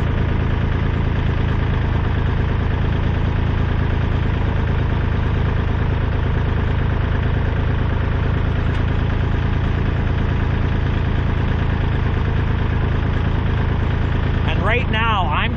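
A Kubota tractor diesel engine idles steadily and loudly throughout while its hydraulics are worked, the low rumble continuous and close, with a brief whining change near the end.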